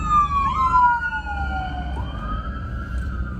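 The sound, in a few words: ambulance siren passing on the road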